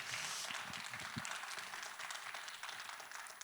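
Spectators at a Yangpyeong county head candidates' policy debate applaud after a candidate's closing statement. The clapping is dense and sustained from a sizeable crowd, easing off slightly toward the end.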